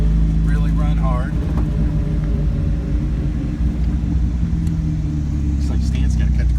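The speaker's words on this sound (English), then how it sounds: "First gear is nice and quiet." A 1961 Triumph TR3B engine hums steadily at low speed in first gear, a smooth, quiet drone with road rumble underneath and no talking.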